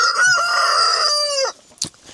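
A rooster crows once nearby, a loud drawn-out call lasting over a second, followed by a brief soft cluck.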